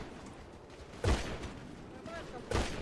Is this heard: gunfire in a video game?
yes